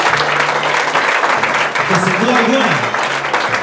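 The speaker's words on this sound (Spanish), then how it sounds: "Fuerte el aplauso para esta gran señora" Dense, continuous applause from guests at a quinceañera celebration fills the clip, with someone speaking over it through a microphone and faint music underneath.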